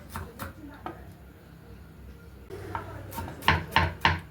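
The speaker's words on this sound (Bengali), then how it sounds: "এবার রসুনটাকেও পিনো করে কুচিয়ে নেবো" Garlic is chopped finely on a board with a knife, first with a few sparse taps, then a run of sharp, close, rhythmic chops, with faint background noise between strokes.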